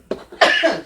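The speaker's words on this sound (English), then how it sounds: "I'm rudely coughing in the background." A single short, sharp cough close to the microphone, preceded by a faint throat sound, in a quiet indoor room.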